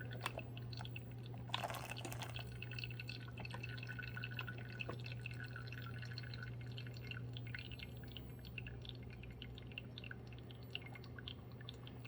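A Ninja CE200 12-cup programmable coffee maker drips and trickles water onto the grounds during pre-infusion, faint and close with a soft steady hum beneath and irregular small liquid drips and splashes.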